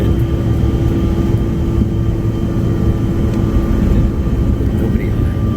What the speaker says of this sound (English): This is a really fast plane.